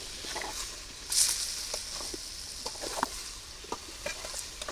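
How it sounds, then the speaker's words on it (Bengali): Potatoes with chopped onion, garlic and green chilli are stirred in a hot pan, giving a low frying sizzle broken by scattered utensil scrapes and taps near the mic. "পেঁয়াজ দিলাম রসুন কুচি এবার দিয়ে দিলাম কাঁচা মরিচ আলুর সাথে একটু লাড়াচাড়া করি নেই"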